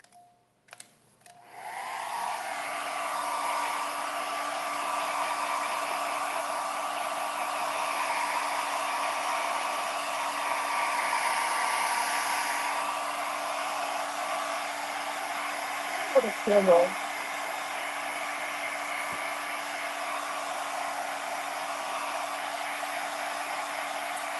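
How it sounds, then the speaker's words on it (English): A hair dryer switches on after a few clicks and blows with a steady whirring hum and airy rush, briefly rattling partway through. "So let's hit it with a hairdryer."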